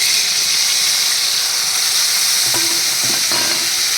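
Poppy seed paste drops into a hot frying pan of pumpkin stems, and a steady sizzle and hiss of frying oil runs throughout with a few soft stirring knocks near the end and no talk.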